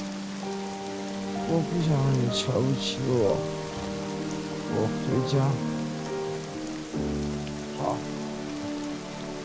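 Steady rain falls on a surface throughout, a dense, even patter under a tense conversation between people speaking in Chinese.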